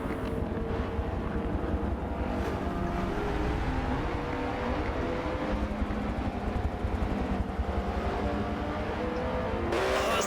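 Race cars at Road America during a Michelin Pilot Challenge round brake hard downhill into turn five and accelerate away, a continuous loud engine roar with shifting pitch and no pauses.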